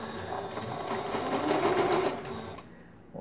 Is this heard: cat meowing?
no